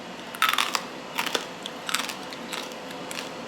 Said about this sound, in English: I want y'all to hear how crispy this rice is